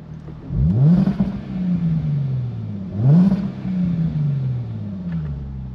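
A Jaguar XE S sports saloon's engine revs twice in dynamic mode, each blip rising sharply and falling back to a steady idle, loud and close with no talking.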